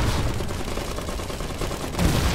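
Dense, continuous small-arms and machine-gun fire rattles in a battle of the strategy game Iron Harvest, loud and unbroken throughout.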